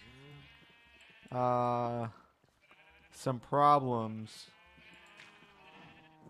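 Minecraft sheep bleat in two clear bursts, one around the middle and a wavering pair a bit later, loud against quiet game ambience, with a voice speaking briefly at the start.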